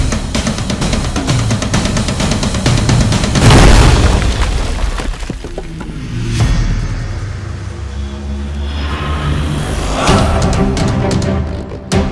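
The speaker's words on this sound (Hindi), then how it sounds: "लगता है दूसरे दरवाजे पर धमाका हुआ है" A loud booming explosion at a door erupts with rumbling aftermath, followed by further heavy thuds and crashes, no speech.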